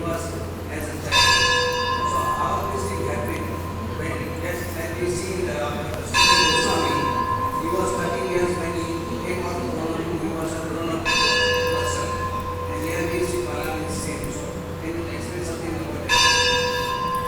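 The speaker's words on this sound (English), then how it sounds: "I couldn't hear completely full question because of the bell." A bell rings four times at regular intervals, each strike bright and sustained and left to decay, over a steady low hum and a busy background murmur.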